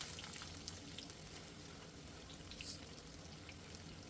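Sliced onions frying with whole spices in a pan give off a steady, soft sizzle and crackle, faint and continuous without talk, while a chicken curry is being cooked.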